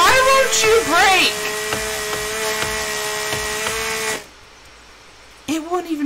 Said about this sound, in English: Break with a chainsaw!